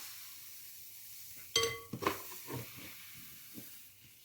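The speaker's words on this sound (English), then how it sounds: "what I'm going to do is add another little bit of mixture to the pan" Pancake batter is poured into a hot oiled pan, a quiet hiss followed by a sudden louder sizzle and a few spluttering bursts that fade back to a soft fry.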